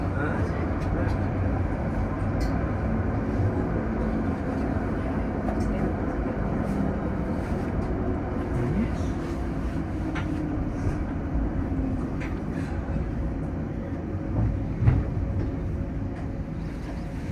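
Parramatta L4 light rail tram running in service, a steady loud rumble and hum of wheels and motors from inside the cab throughout, with faint occasional clicks and a brief voice mixed in.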